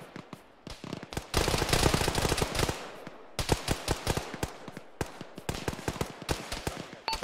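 Rapid bursts of automatic gunfire and single shots in an ArmA military video game firefight, dense and loud, with dry sharp cracks in irregular clusters and brief pauses; no speech.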